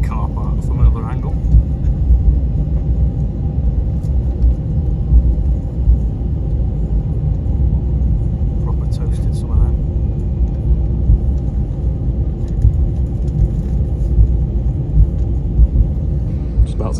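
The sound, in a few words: airplane taking off from Luton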